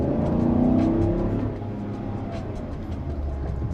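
A Toyota Land Cruiser 300 Series driving on the road, with a steady low engine and road rumble plus a rising whine early on, heard from inside the cabin with no talking.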